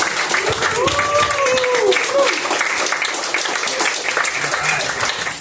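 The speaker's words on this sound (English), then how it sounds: "Keep it going for your host, Chris Hopkins." Applause and cheering from a comedy club audience, steady clapping at a moderate distance, with a voice calling out over it at the start.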